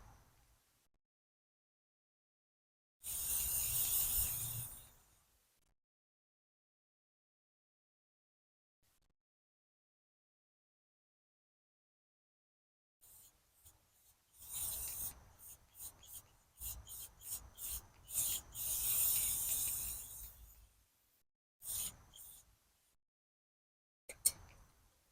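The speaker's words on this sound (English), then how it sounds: "I'm just gonna clean the area here with a little bit of" Brake and parts cleaner sprays from an aerosol can onto the rear wheel bearing area of a 2007-2011 Honda CR-V: one sustained hiss, silence, then a run of short bursts and quick spurts, close and fairly quiet.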